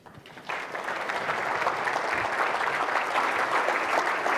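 Applause welcoming former Swedish prime minister Carl Bildt swells from quiet within half a second into a full, steady roar of clapping from a large audience that holds to the end.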